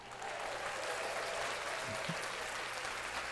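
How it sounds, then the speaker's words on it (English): Studio clapping on a sports-talk podcast, celebrating the Philadelphia Eagles' Super Bowl win: a steady, dense patter of hands clapping that runs evenly throughout at moderate level, with no voices over it. "Let's clap that up"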